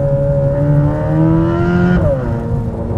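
Modified exhaust on a Chevrolet Corvette C8 Z06, recorded close up outside the car, revving hard with a rising engine note that peaks and drops back, loud and alone.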